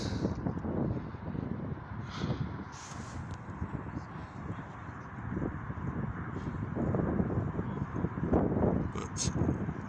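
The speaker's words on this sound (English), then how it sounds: "It's a bit windy." Gusty wind at a sunset viewpoint by a bridge rumbles across the microphone in uneven bursts, rising and falling throughout, growing stronger toward the end.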